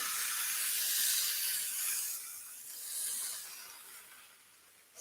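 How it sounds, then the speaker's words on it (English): A hot steam iron set to linen steams wet yarn under a damp washcloth, giving soft, breathy hissing bursts that swell and fade at close range before tapering off. "I'm going to take my hot iron. It's set to linen. And you can hear it. You hear that steam on there?"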